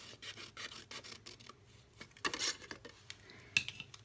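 Scissors cut paper wedges for a purse treat holder made from 6x6 paper, giving a run of soft, close snipping and rasping strokes with a couple of sharper clicks near the end.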